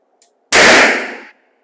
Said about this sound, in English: he's going to use a little Charter Arms gun for this one